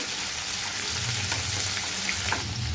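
Onions, cumin, mustard seeds and dried red chilies fry in hot oil in a pan for a ridge gourd and egg curry, giving a steady dense sizzle with faint crackles and a soft scrape of stirring.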